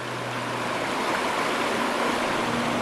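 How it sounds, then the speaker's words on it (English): River water flows in a forest setting, a steady close rush of broadband splashing and gurgling that never lets up, with a faint low hum underneath and no talking. "I'll be sleeping to the sound of water again."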